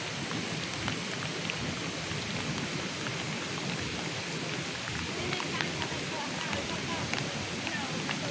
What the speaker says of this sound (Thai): ฝนตกกะนัก